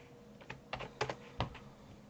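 A few quick keystrokes on a Chromebook keyboard entering a password, soft plastic clicks in an irregular burst close to the microphone, with no talking.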